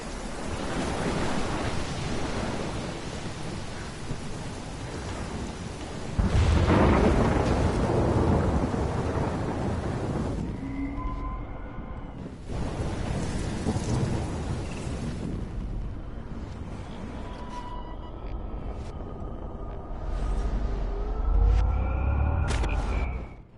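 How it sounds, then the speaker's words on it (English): Stormy weather in the game Life is Strange: a broad roaring wash of wind and rain with heavy rumbling swells, no speech, building and easing in loud surges with a few faint tonal sounds drifting over it. "I've never seen a storm like this in Oregon."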